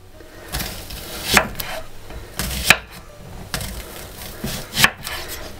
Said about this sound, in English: Now we'll do the onions while the cauliflower's cooking. Just slice them through like this.